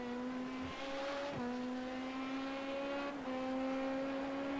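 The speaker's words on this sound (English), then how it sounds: "Those Porsches sound so weird when you pass them." Racing video game engine note of a Porsche with a flat-six boxer engine, a steady high whine with pitch shifts around 0.7, 1.4 and 3.2 seconds, loud and continuous throughout with no talking.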